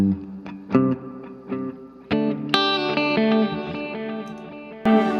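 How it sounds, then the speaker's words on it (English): An electric guitar plays plucked notes and chords that ring out with a washy reverb and repeating echoes from a Strymon Timeline delay trailing behind each strum. "The second channel is same amount of reverb, and then we've got some delay."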